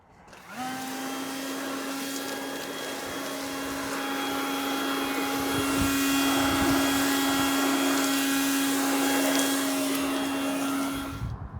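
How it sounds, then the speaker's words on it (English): Ryobi 40 volt HP cordless leaf blower clearing a spring flower bed, a steady loud whirring roar with a constant motor tone that holds for about ten seconds before shutting off. "it's just a Ryobi 40 volt HP blower, and it's amazing"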